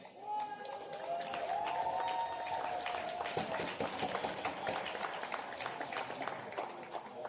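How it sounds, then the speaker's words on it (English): Italian fans applauding and cheering in the stands at a European Championship powerchair hockey playoff between Italy and Germany, a steady roar of clapping and crowd noise with a rising whistle-like tone early on, an announcer's voice carrying over it. "A big applause to Italian fans."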